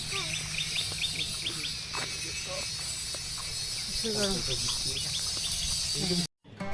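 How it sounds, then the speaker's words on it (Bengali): Several village birds chirp and call in short repeated bursts against a steady insect-like hum, fairly close, ending in a brief dropout. "তোমরা নেচারের যে আওয়াজ, পাখির ডাক এইসব শুনতে পাবে"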